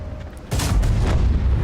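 Artillery fire in the World of Tanks video game: a single heavy boom erupts about a third of the way in and rolls on as a loud, sustained low rumble to the end, with no talk over it.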